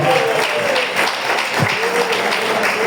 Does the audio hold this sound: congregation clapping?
yes